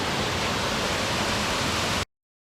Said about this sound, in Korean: 이게 작은 폭포야?